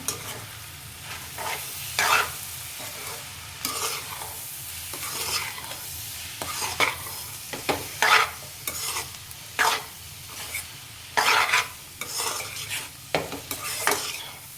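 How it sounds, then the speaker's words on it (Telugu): Anda bhurji masala frying in a pan while being stirred, with repeated sharp scrapes and clinks of a spoon against the metal over a continuous close sizzle. "మనం మంచి కలుపుకున్నాం కదా ఫ్రెండ్స్"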